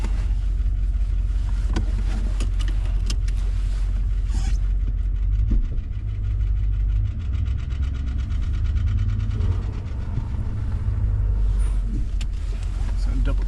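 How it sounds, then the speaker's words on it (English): Pickup truck engine idling in arctic cold of about -35°C, a steady low rumble close by, with occasional clicks and shifts in tone. "You can hear my truck idling."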